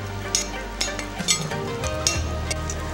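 Garlic cloves sizzle in a hot pan under repeated scraping and clinking as they are stirred, with a soft frying hiss running beneath the knocks.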